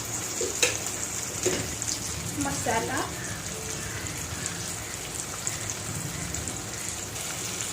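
Chopped tomato with turmeric and garam masala sautéing in a pan for a dodka bhaji, giving a steady soft sizzle with a few brief scraping stirs, close and moderately loud with no talking.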